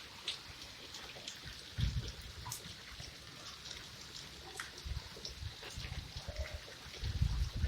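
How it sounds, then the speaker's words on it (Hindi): Steady rain patters down outdoors, drops spattering close by over a continuous wash, with a few heavier bursts. "बहुत मज़े की बारिश है"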